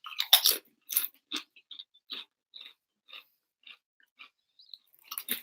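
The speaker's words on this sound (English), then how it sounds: "Let me get a little bit of Doritos." Doritos chips being chewed close up, with a loud crunchy bite at the start followed by a steady run of softer, evenly spaced crunches, and no talking.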